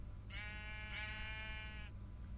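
One drawn-out sheep bleat from modded Minecraft lasts about a second and a half, clear and steady over a low background hum with no talking.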